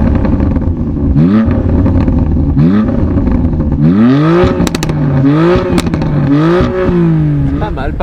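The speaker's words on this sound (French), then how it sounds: "le son du 6 cylindres est quand même bien rageur" A BMW M3's six-cylinder engine is blipped hard several times, each rev climbing sharply and falling back over a loud, close idle, with a few sharp clicks between the pulls.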